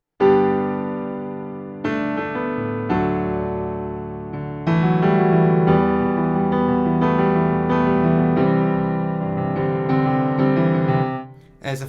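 A piano plays the simple opening four-chord loop of a song, with sustained chords struck in a steady pattern, close and clear, with no voices over it.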